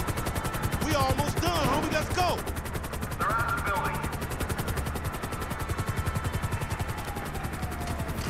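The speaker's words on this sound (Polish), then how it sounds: "A, jest drugi śmigłowiec, dobra." Rapid gunfire crackles alongside a steady helicopter rotor drone during a GTA V shootout, with bursts of shots early on over continuous engine noise.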